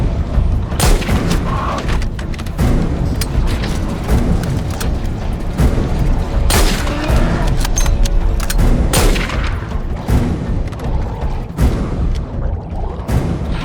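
Rapid bursts of video-game gunfire and heavy booms pound continuously, loud and close, with dense volleys throughout.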